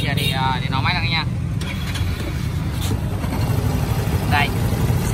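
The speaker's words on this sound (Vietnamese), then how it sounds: "giờ thì nổ máy lên nha" A used scooter with about 37,000 km on it starts up and settles into a quiet, steady idle, its engine droning evenly throughout with a brief whine near the start, and no speech over it.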